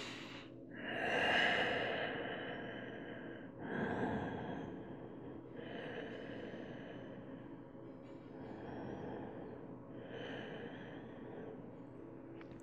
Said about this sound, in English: Relax your forehead on your knees and just take a couple of breaths